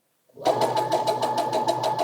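A sewing machine stitches down a steek on a knitted cardigan worked in the round, giving a steady close-up whirr with a fast rhythmic needle pulse that runs alone and unbroken after a brief silent start.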